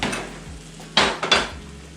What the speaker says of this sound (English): I want to get it off of this skillet so that it doesn't keep cooking